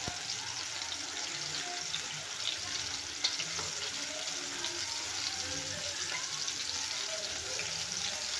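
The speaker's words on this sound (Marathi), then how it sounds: "आता हे टाकलेले आहे फ्राय करायला। तर याला आता परतून घेऊया।" Marinated prawns frying in oil in a kadhai, a continuous soft hiss and crackle, fairly faint and even, with no distinct stirring strokes.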